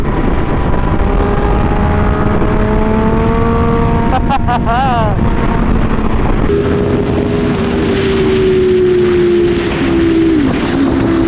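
A motorcycle engine, heard while riding a bike filmed from a rider's point of view, roaring loudly and continuously with rising and falling revs and a gear change, heavily buffeted by wind noise.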